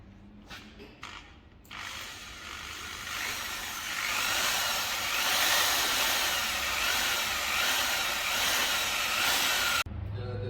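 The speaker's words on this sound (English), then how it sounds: "and then we'll drill the hole." A power drill grinds steadily into the metal of a BMW car for several seconds, a continuous high whine with brief starts and stops at the beginning and an abrupt cutoff.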